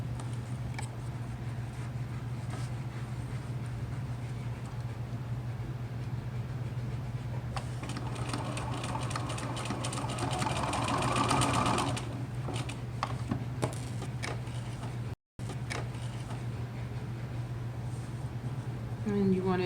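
A domestic sewing machine stitches a fabric face mask: a steady hum with bursts of rapid mechanical clatter as the needle runs, pausing briefly, while someone talks nearby.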